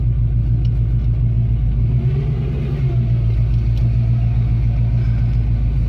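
A Mustang engine, once damaged and parked for over ten years, runs steadily on its first drive with a loud, constant low rumble from inside the car and no talk.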